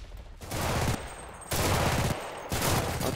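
Rapid gunfire in the World War II video game Enlisted, with an IS-2 tank in play: three sustained bursts of automatic fire separated by short pauses, loud and dense, with no talking.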